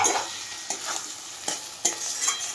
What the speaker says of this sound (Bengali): ধনিয়া পাতাটা দিয়ে এইভাবে একটু চালাবো, হালকা চালাবো, বেশি না